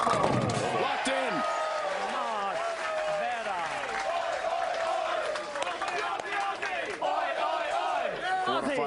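A large crowd cheering and shouting at a PBA Tour Finals bowling event, loud and sustained throughout, with whoops and hollers layered over a steady roar.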